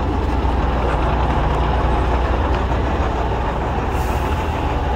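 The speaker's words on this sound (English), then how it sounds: "A lot of buses." Heavy traffic rumbles steadily nearby in downtown Costa Rica, with deep engine drone from large buses and a brief hiss near the end like an air brake.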